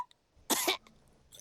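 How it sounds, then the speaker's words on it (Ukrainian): A cartoon pig character from Peppa Pig in a Ukrainian dub coughs once, short and harsh, after faint brief sounds, with a small trailing rasp. "кашель у Педро такий заразний"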